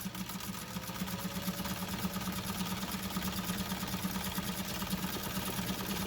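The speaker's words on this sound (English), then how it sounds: "Have no trouble at all sewing that heavy material." An s99 sewing machine stitching heavy fabric at about ten stitches per inch runs in a steady, fast mechanical whirr with a regular rhythmic hum, close and continuous for the whole stretch.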